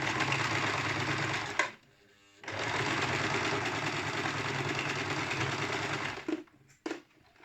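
A Singer household sewing machine stitches a cord table runner in fast, steady runs, pausing briefly before resuming and then stopping near the end, close and loud with no talk.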